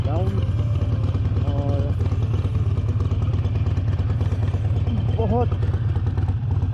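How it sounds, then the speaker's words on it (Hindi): A motorcycle engine, just started after a drained battery, runs with a steady low rumble throughout, nearly masked by someone talking in Hindi over it. "हमने बाइक स्टार्ट कर ली है"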